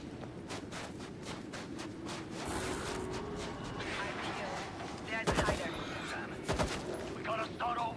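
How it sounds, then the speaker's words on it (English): Gunfire in the World War Z zombie shooter, with scattered shots through a busy game mix and two louder close bursts near the end, heard under talk. "Someone's shooting me."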